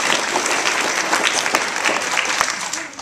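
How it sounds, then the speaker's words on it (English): Third graders and audience clapping at a school achievement assembly, a loud, dense, continuous round of applause with a voice faintly mixed in. "So give yourselves a big round of applause for a great start to the school year"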